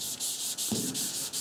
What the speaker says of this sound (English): I will keep on sanding the whole cabin